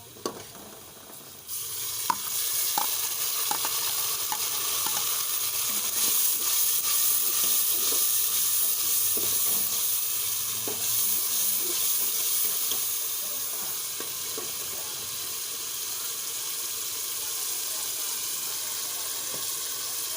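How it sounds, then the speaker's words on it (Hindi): Ginger garlic paste dropped into a hot pan with oil and browned onions, bursting into a loud, steady sizzle and crackle that continues close and alone, easing slightly over time. "इसमें हम डाल देंगे अदरक लहसुन का पेस्ट।"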